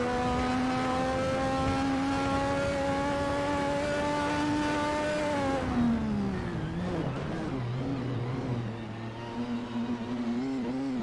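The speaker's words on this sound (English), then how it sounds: "Very careful downshifts into the chicane." A race car in a sim racing endurance game holds a loud, sustained high engine whine, then drops through several quick downshifts into a chicane. The pitch falls in stepped blips and settles into a lower steady drone, close and without voices.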